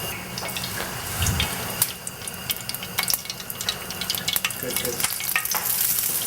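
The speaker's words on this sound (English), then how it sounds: "Right now we can hear that it's starting to pop and sizzle." A Roma tomato crackles and sizzles in hot oil in a sauté pan, with a dense continuous frying hiss and scattered sharp pops up close, growing busier as the clip goes on, and no talking.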